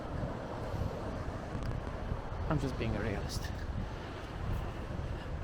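Wind blows steadily across the microphone outdoors in Valletta, Malta, a broad continuous rushing roar that runs under a person speaking throughout.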